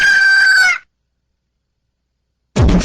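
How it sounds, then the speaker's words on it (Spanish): A rooster crows once, loud and close with a long drawn-out call, followed by silence and then a short burst of another sound at the end. "El despertar del gallo."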